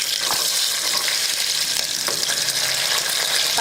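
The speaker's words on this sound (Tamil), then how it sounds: "பட்டை, கிராம்பு பொரிஞ்சிருச்சு" Cinnamon, cloves and cardamom frying in oil for Tamil nombu kanji, a steady close, bright sizzle with faint crackles and no talk.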